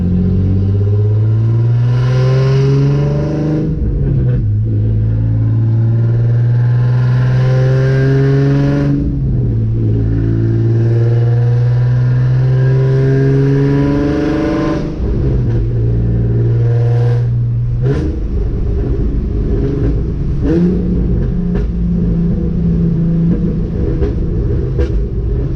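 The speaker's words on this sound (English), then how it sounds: "I just want you guys to hear the car right now. It's insane, insanely brutal." Nissan 350Z fitted with a Z1 Y-pipe cruising at about 3,000 RPM, its engine and exhaust droning loud and continuous with a rising and falling rumble through several gear shifts, no talking.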